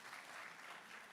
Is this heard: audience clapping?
yes